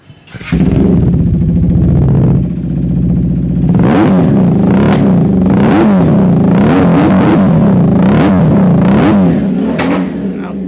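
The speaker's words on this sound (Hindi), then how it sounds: "बड़ा मारधार से भरपूर बाइक का साउंड है।" A 400 cc motorcycle engine starts up close and settles into a loud idle, then is revved repeatedly in sharp bursts before easing back.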